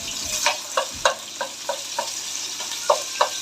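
Paste stirred in a frying pan with a spoon, rhythmic scraping strokes about every third of a second over a soft sizzle, close and alone without voices.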